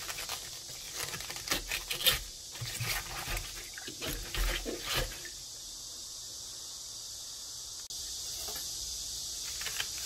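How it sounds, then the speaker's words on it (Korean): Cabbage leaves being rinsed in water give bursts of splashing and wet patter for the first few seconds, then fade to a quiet, steady trickle with faint hiss. "물에 다시 한번 헹궈서 물기를 빼주고"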